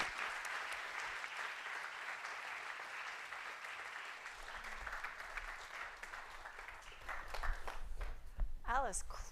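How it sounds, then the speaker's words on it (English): An audience at a lecture event on inflation and the global economy applauds in sustained, dense clapping for the whole stretch, swelling slightly near the end as a voice briefly comes through. "please join me in a round of applause for this evening's guests"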